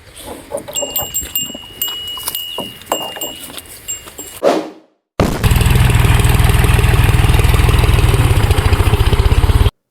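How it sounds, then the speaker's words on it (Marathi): Irregular clattering and mechanical noise, then after a short gap a loud tractor engine, arriving on a farm for sowing, chugs steadily at idle, close by, with a rapid even throb. "तर आलं मित्रांनो ट्रॅक्टर"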